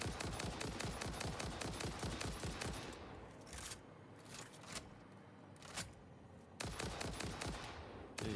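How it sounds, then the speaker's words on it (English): Rapid rifle gunfire in Satisfactory, with dense bursts of automatic shots for about three seconds, then a quieter stretch with a few isolated cracks, and a final rapid burst near the end. "Alright, back to the rifle."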